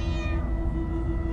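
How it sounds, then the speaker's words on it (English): Cats meow in a video game: a short cartoonish meow early on over a steady tonal background hum, no voices. "Oh, many cats, so many cats."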